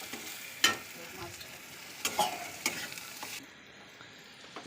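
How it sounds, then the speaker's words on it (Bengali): Chopped onions frying in oil with salt and turmeric, a steady soft sizzle broken by a few sharp scraping stirs of a spatula in the pan, close and quiet with no talking. "এখানে পেঁয়াজ দেওয়া হয়েছে, তেল দিয়ে তার মধ্যে ঝাল পেঁয়াজ কুচি কুচি করে এখন লবণ আর হলুদ দিয়ে ভাজা হচ্ছে।"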